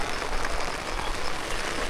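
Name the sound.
heavy rain falling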